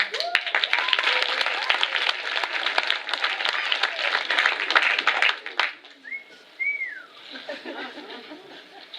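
A theater crowd claps loudly and steadily for several seconds for a contestant, with laughter and a whistle mixed in, then the applause fades and scattered voices remain.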